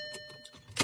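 An Audi A4 door shuts with a single solid thump near the end, following a brief stretch of quiet in-car hum with faint tonal whine.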